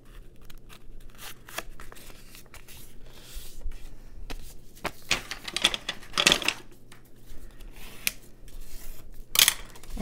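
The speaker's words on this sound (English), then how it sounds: "I'm gonna fold it this way." Scrap paper being folded and creased into small envelopes for a junk journal, close up and alone, with irregular crisp crinkles, rustles and light taps, a few sharper crackles standing out.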